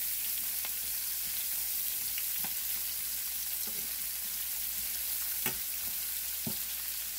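Peppers, onions and celery sauté in a pan on high heat, a steady, even sizzle throughout with a few sharp clicks of stirring, heard close with no talking.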